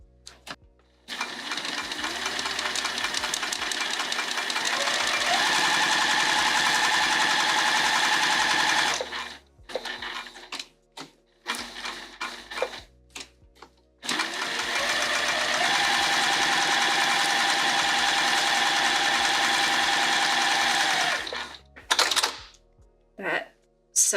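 A sewing machine stitches a bag handle in two long, fast, steady runs with a pause between them, then a few short bursts of stitching near the end.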